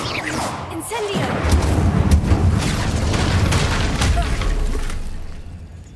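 Casting the Incendio fire spell in Hogwarts Legacy sets off a loud whooshing burst that swells into a rumbling, boom-like roar. It holds for several seconds with crackling transients, then fades.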